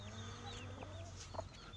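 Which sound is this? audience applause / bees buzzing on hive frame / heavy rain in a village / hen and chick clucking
hen and chick clucking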